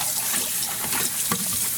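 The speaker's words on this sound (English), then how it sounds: "This is just cool water." Cool water running steadily from a tap while dyed embroidery floss is rinsed, a continuous close hiss and splash with no talk.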